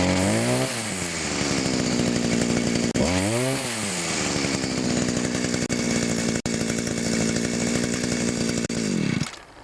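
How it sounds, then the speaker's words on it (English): A chainsaw's small two-stroke engine buzzes at a high idle, revving up sharply twice near the start before settling into a steady, loud, close drone that cuts off abruptly at the end. "I apply the same principle on chainsaws, but you gotta make sure that your chain isn't turning when your machine's idling."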